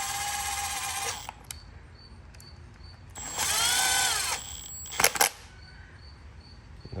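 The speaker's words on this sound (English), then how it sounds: "So you want your fuel brushless impact on number 1, and then I like to start in the center." A Milwaukee Fuel brushless impact driver runs down cam tray cover bolts on an Audi/VW 2.0T TSI cylinder head, with a short whirring burst near the middle of the clip and a few quick rattling taps around it, close up.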